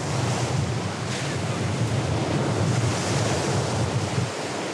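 Ocean swell and heavy waves pounding the coast at Sunset Beach (Paumalu), Hawaii, a loud continuous roar of surf with strong wind buffeting the microphone, no voices.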